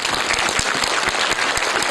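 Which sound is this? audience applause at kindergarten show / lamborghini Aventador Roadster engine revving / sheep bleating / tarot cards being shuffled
audience applause at kindergarten show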